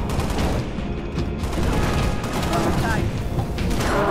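Enemy gunfire in Halo Reach crackles in dense, continuous bursts, a loud sustained volley of rapid shots layered with booms and mechanical clatter, with a voice talking faintly underneath.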